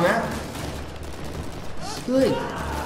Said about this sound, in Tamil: மேலே மேலே ஒருத்தர் சுடுறான் பாரு